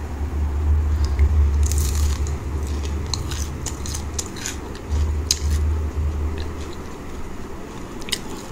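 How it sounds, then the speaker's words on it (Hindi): Bites into crunchy fried moringa leaf pakoda, a series of close crisp crunches followed by steady chewing and moist mouth sounds over several seconds, with no talking. "अभी मैं आप लोग को एक खा के बताती हूँ,"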